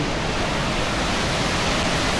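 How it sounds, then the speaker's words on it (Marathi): Loud, constant roar of water crashing down a waterfall at Malshej Ghat in the Sahyadri hills, an even rushing sound with no pauses. "जे वाहणारं धबधब्याचं पाणी आहे"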